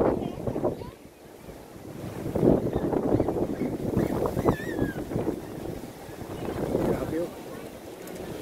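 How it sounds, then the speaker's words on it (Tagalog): Strong wind buffets the microphone at Tagaytay's Palace in the Sky, loud gusting rumbles rising and falling across the whole stretch while people talk underneath. "Lakas ng hangin."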